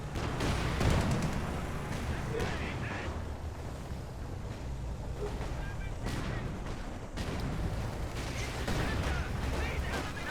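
Machine gun and sniper gunfire in Company of Heroes 2, a World War II strategy game: dense, continuous battle noise with scattered cracks and bursts blending into a steady roar of distant fire, with no quiet gaps.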